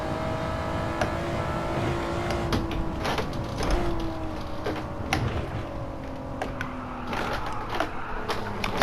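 Gran Turismo 7 car in a sliding four-wheel drift, steady engine drone with shifting harmonic pitch and tyre scrub, continuous and fairly loud throughout with no talking.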